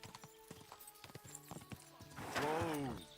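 Horse hooves clip-clop in Kingdom Come: Deliverance II, a steady trot of close hoofbeats that ends in a loud whinny.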